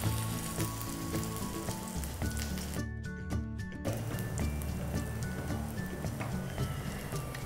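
Sesame toast sizzles steadily in hot oil in a non-stick pan after being slid in stuffing side down, a close, dense frying crackle that runs continuously throughout with no voices.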